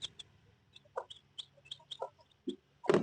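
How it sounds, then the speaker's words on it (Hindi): A hen clucks softly beside her two small chicks, whose high thin peeps come in short scattered bursts. Quiet and close, with a louder flurry of clucking at the end. "ये देखिए हमारे कुकड़ी। ये रहे दो चूजे नन्हे से।"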